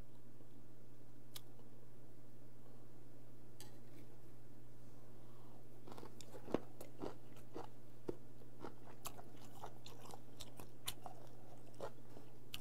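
Someone chews raw, unfermented skate (hongeo) sashimi close up, with soft irregular crunching and squishy bites over a steady low hum, no talking.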